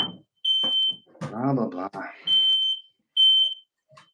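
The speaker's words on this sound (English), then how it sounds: "My smoke alarm went off there." A home smoke alarm gives loud, piercing high beeps in repeated bursts, sounding several times across the clip and alternating with a voice talking between and under the tones.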